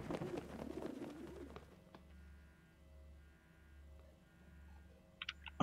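A pigeon in a video game, Prey, coos in a slow, regular series of low, soft calls, faint and steady, with a bit of talk and clatter at the start.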